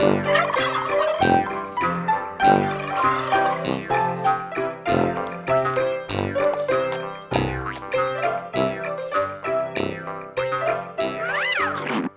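Flustered hens cluck and squawk almost without pause, loud and close, layered over a busy, dense backdrop.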